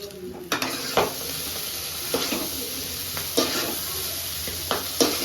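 Chicken noodles with red chilli sauce being stirred in a hot pan over a high flame, a steady sizzle broken by several sharp scraping strokes at an uneven rhythm, close and fairly loud.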